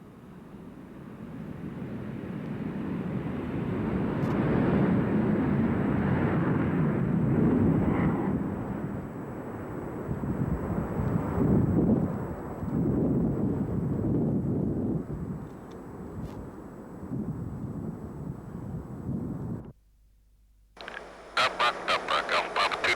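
An F-15 Eagle fighter jet rolls for takeoff with a loud, sustained roaring rumble that swells and surges for about twenty seconds before cutting abruptly, followed by brief pulsing tones.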